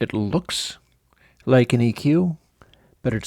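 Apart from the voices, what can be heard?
No everyday noises stand out.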